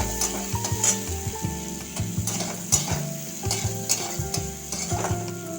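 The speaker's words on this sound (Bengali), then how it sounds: "আর একটা শুকনো লঙ্কা আর একটা কাঁচা লঙ্কা দিয়ে দিলাম। দিয়ে ভালোভাবে এগুলো ভেজে নেব।" Dried and green chillies and chopped onion fry in oil in a pan, giving a continuous close sizzle broken by repeated rhythmic scrapes and clinks of a spatula stirring, with no voices.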